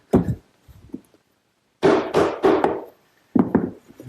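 Quarter-inch plywood panel slid into the groove of a roll-top desk without glue, giving a few sharp woody knocks and scraping taps in bursts with pauses between, close and fairly loud.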